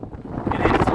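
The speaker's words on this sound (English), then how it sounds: "It's a gale up here." Brief gale-force wind on a mountain in Shenandoah National Park buffeting the microphone, rumbling and rising in strength over a second.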